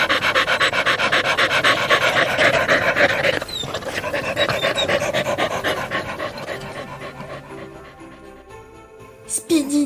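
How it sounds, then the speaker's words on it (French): Puppies pant close and loud in quick, rhythmic breaths for most of the stretch, then the panting fades and slows toward the end, with a short sharp noise at the close. "Les chiots haletèrent et s'arrêtèrent"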